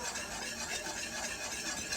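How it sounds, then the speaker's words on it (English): A whisk stirring flour into a pot while making Southern baked macaroni and cheese, a steady, soft, rhythmic scraping and swishing that runs evenly throughout at low volume. "Whisking it."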